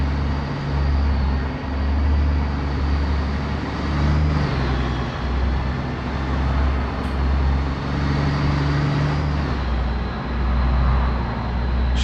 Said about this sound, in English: the audio of the truck's coming through okay now